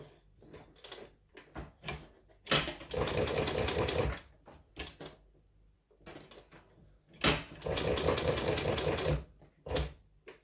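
A sewing machine stitches a strap in two loud, steady bursts of a few seconds each. Softer clicks and handling noises from lifting the presser foot and pivoting the fabric fall between the bursts.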